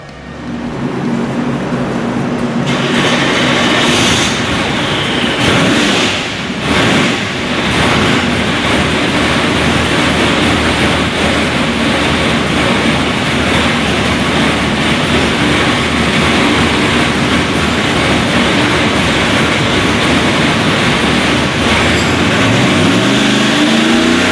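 A built small block Chevy V8 roars on an engine dyno, loud and sustained for over twenty seconds as it revs up under load and holds a heavy, steady drone before easing off.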